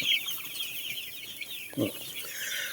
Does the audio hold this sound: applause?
no